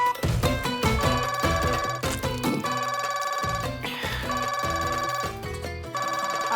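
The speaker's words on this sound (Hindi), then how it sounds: "आपका फोन बज रहा है, जवाब दीजिए।" A phone ringtone plays a repeating melodic pattern, loud and near, with no talking over it.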